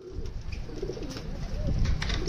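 Pigeons coo softly near a home pigeon coop, low rolling calls repeating over a steady background murmur.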